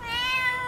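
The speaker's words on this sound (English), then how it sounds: "look at this baby" A tiny rescued kitten gives one drawn-out, high, tonal meow, close and moderately loud, alone with no talk.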